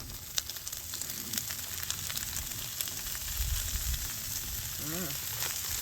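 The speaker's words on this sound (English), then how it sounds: "Boy, that's sizzling up." Steady, crackling sizzle of mozzarella cheese frying in a hot pan, close up, with small pops and a faint voice briefly underneath.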